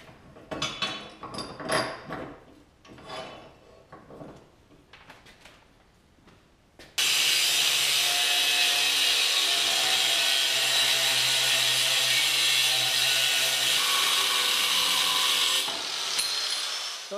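Steel channel being cut to a short length for a three-point trailer hitch in a home garage, a loud continuous harsh saw or grinder roar that starts abruptly after scattered clanks and knocks, then holds steady for about nine seconds.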